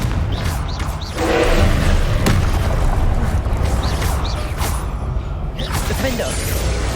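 Confringo blasting spell going off in the Hogwarts Legacy video game, a loud burst with a whooshing rush and a sharp crack midway, set among ongoing game combat noise.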